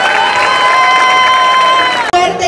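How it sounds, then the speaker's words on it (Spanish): Audience at the Mexicana Universal Quintana Roo 2021 beauty pageant claps and cheers loudly as one dense, sustained wash with shouting voices over it, cutting off abruptly near the end. "un aplauso"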